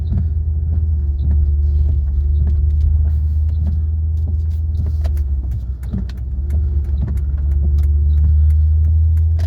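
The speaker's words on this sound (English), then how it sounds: "It's had mufflers put on the back, I think, so it's a little bit gruntier sounding, I guess." Mercedes S550 S-class engine fitted with aftermarket rear mufflers, idling in a steady, deep, gruff rumble that stays close and loud throughout, with faint small clicks and jingles over the low drone.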